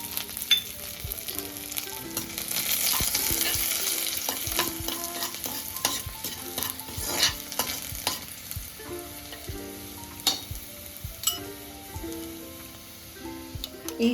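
Garlic and curry leaves frying in a pan of oil, a steady close sizzle with sharp crackles and pops and occasional stirring clatter throughout, no talk.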